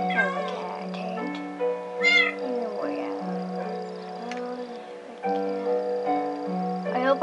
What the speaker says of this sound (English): I hope I find a cat.